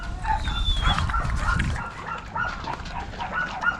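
Bully and Gultair puppies bark and yip in quick, irregular bursts close by, their excited high-pitched barks overlapping with a few whimpers.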